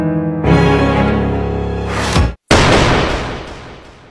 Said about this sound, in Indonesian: setelah mendengar suara tembakan keras itu, Xiaotian dan para murid-murid kuil Tiansu